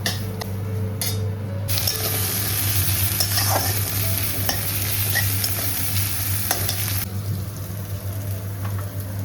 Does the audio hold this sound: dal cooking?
yes